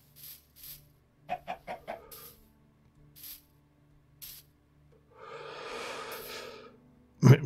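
A chicken in the Minecraft StoneBlock modpack video game gives a series of short clucks in quick succession, followed by a breathy spray-like hiss and a sharp thump at the end. No one speaks.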